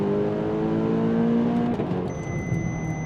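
A tuned 400 HP VW Golf 7.5 GTI TCR engine revs high and steady past 7,000 RPM, then drops as a manual-mode gear change hits, followed by a thinner whine from close by.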